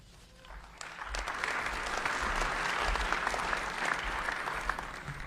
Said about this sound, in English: please give Mr. Young another big round of applause